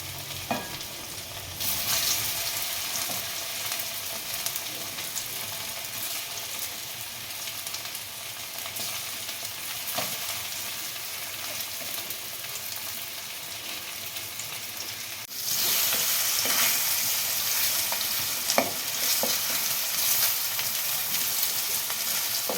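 Taro pieces dusted with turmeric fry in oil with a long, steady, close hissing sizzle that grows noticeably louder partway through, dotted with faint stirring clicks and no voices.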